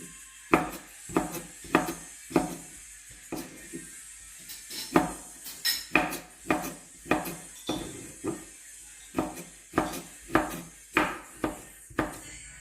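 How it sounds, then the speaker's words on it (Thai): Quick rhythmic knife strokes slicing bamboo shoots into long thin strips on a wooden board, a series of sharp close taps in uneven bursts with short pauses between. "หั่นเป็นฝอยๆ ยาวๆ ไปค่ะ"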